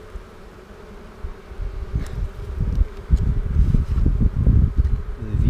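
Dense, steady buzzing of many honey bees close by, swelling louder midway and holding, with no voices.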